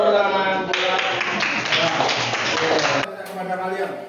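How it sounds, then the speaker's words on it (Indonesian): Students in a mathematics class applaud together, a loud dense burst of clapping mixed with voices calling out, then a teacher's voice continuing as the clapping fades. "Beri tepuk tangan"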